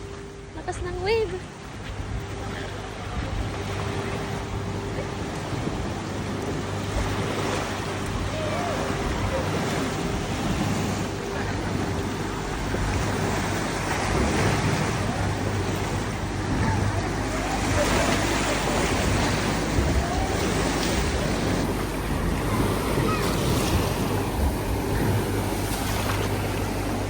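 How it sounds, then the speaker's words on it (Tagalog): Strong ocean waves roll onto the beach at a resort in Salalah, a continuous broad wash of surf with wind noise, while people talk and call out over it throughout. "lakas ng alon. Lakas ng wave."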